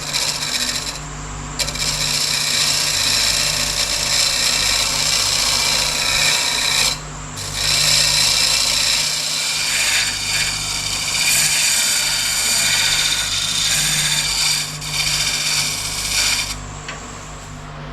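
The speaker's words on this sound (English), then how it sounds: "I'm going to turn the lid in really quickly and try and get some kind of thin finial on the top here." A wood lathe turns a yew wood box lid while a tool cuts into it, making a loud, continuous scraping rasp over a motor drone, broken by two brief pauses early on and easing off at the end.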